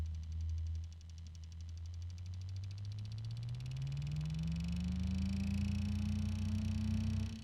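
Damaged bearings give off a steady mechanical drone with a low hum that slowly rises in pitch, under a constant high whine.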